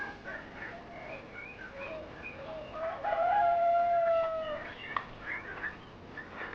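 Chickens on a small home poultry farm cluck softly in the background, with one bird letting out a clear, fairly near crow partway through and no talk.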